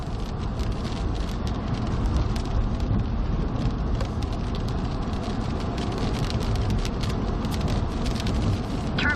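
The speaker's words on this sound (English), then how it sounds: "We'll probably sit here and let this storm kind of go by us" Steady heavy rain from a passing thunderstorm in the US Midwest (Illinois, Ohio, Michigan), pattering on a surface as a dense constant wash, with no talk heard.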